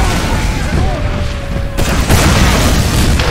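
Rocket explosion in a first-person shooter video game, with a heavy boom and crackling burst of gunfire-like blasts in the middle, a whistling tone fading beforehand.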